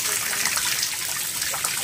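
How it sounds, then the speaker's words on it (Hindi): Water is poured over rice while it is being washed, making a continuous splashing trickle at close range with no clear pauses. "हमरो चाउर धुआ होउची"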